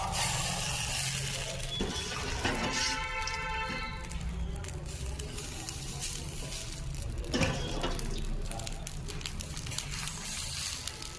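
Rice batter poured into a hot, oiled clay mold for chitoi pitha, giving a loud sizzle and hiss over an ongoing background, with occasional scraping and clatter.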